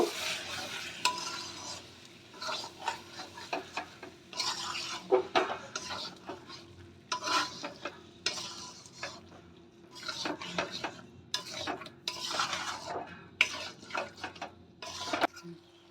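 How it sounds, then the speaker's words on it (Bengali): Yogurt being stirred into chicken curry in a pan over medium-low gas, uneven bursts of spoon scraping and clatter against the pan over a soft sizzle, with no voices. "দইটা দিয়ে আমি ভালো করে মিশিয়ে নেব"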